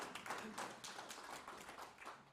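A small audience at a university presentation claps briefly, a light patter of hands that builds and fades over a couple of seconds.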